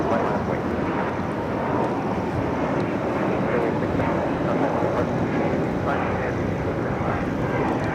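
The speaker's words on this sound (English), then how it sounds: "This is Spirit Airlines 675 taking off to Las Vegas on the A321neo." A Spirit Airlines Airbus A321neo departs Los Angeles International bound for Las Vegas, a constant, even jet roar heard from a distance with some wind noise and no clear talking.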